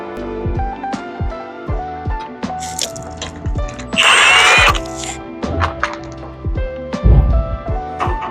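Power tool, likely an impact wrench, removing wheels from an Alfa Romeo Quadrifoglio during a coilover install: a short loud burst of whirring and rattling amid scattered clanks and knocks of nearby workshop handling.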